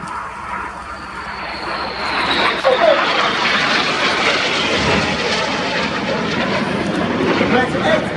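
Red Arrows display jets dive toward the airfield at an air show, a loud swelling roar of jet engines with rushing wash, heard under a commentator's talk.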